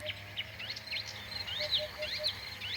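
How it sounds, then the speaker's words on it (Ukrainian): Birds chirp and trill repeatedly in a lively outdoor chorus, with frogs calling faintly underneath a steady low background. "Слухаю, жаби кувікають, пташки співають"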